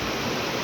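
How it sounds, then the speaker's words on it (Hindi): A river running high after overnight rain rushes past nearby in a dense, steady roar of water, loud and unbroken with no voices over it. "नदी की आवाज़ के कारण मेरी आवाज़ कम आ रही होगी"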